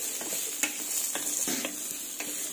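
Chopped onions and green chilies sizzle steadily in a hot pan, with a constant close fry hiss broken by the soft scrape and knock of stirring every half second or so.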